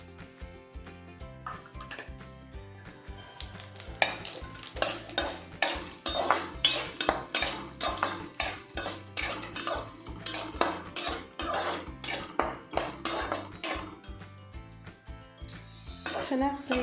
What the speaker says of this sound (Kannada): ತುಪ್ಪ ಬಿಸಿ ಆದಮೇಲೆ ಇದನ್ನು ನಾನು ಸ್ವಲ್ಪ ದ್ರಾಕ್ಷಿ ಗೋಡಂಬಿ ಹಾಕ್ಕೊತಾ ಇದ್ದೀನಿ. ಹಾಕೊಂಡು 1 ನಿಮಿಷ ಫ್ರೈ ಮಾಡ್ಕೊಳ್ಳಿ ಚೆನ್ನಾಗಿ.